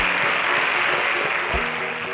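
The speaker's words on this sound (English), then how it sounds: "Please, a round of applause for them." A studio audience claps steadily for departing students at a televised semi-final contest, dense, continuous applause with no voices over it.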